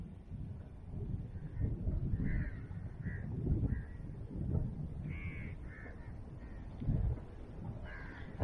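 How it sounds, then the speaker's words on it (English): Crows cawing outdoors during a stormy day, a series of harsh repeated caws at moderate distance over low rumbling wind or background noise. "And there's lots of crows there."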